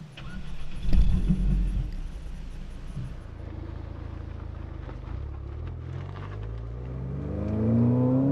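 A Ford Fiesta ST's small turbo engine revs under way, a loud surge early on, then a steady drone that climbs in rising tones near the end, with faint wind and road noise.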